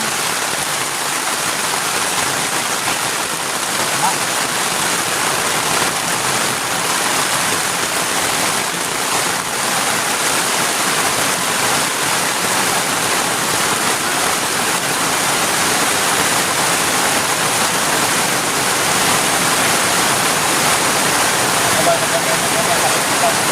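Heavy rain pours down steadily outdoors at a campsite, a dense unbroken hiss without pauses across the whole stretch.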